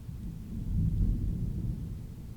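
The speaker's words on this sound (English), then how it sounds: "Another big thunderclap." A big thunderclap rolling in as a deep, loud rumble that swells and lingers for a couple of seconds, heavy and low with no voices over it.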